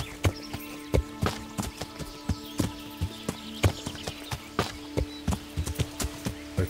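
Horse hooves clip-clop at a steady walking rhythm in the medieval role-playing video game Kingdom Come: Deliverance, crisp close strikes repeating evenly over a faint ambient background.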